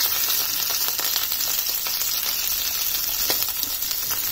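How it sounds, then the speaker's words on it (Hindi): Stuffed potatoes fry in a pan with a dense, even crackling sizzle that holds steady and close throughout, with no voices over it. "और ये गलने तक हमें, मतलब फ्राई होने तक इसको पकाना है"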